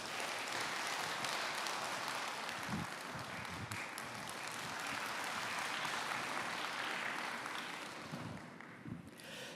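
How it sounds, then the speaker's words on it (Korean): A church congregation applauds to welcome a pastor to the front, with steady, sustained clapping from a crowd that fills the whole stretch and fades slightly near the end. "먼저 우리 홍봉주 목사님 나오실 때 박수로 모시겠습니다"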